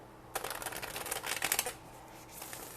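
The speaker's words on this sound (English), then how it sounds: "I'm going to just do a couple shuffles here." Tarot cards are shuffled in a quick riffling burst lasting about a second, followed by a brief, softer second riffle, close by in a quiet room.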